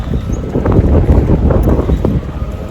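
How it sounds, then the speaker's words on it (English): Strong wind buffets the microphone outdoors on a warm 80-degree day, a loud, continuous low rumble with gusty surges throughout. "the wind is probably really, really loud. It's kind of blasting even though it's 80 degrees out."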